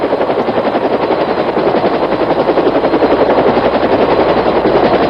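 A military helicopter's rotor beats loudly and steadily close by, a continuous rhythmic thudding chop that holds throughout, over rice fields in Vietnam.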